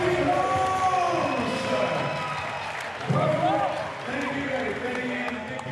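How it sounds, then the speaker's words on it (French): A crowd in Monaco applauds for Abdallah Chataï at an event with father-and-son three-on-three matches, a steady wash of clapping and some cheering sustained throughout, with voices and other sound layered over it. "1 minute d'applaudissements pour ce grand homme, Abdallah Chataï, qu'on peut applaudir bien fort"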